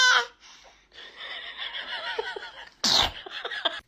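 A newborn baby gives a couple of small, sharp sneezes close by, one at the start and a louder one near the end, with soft breathy sounds between them.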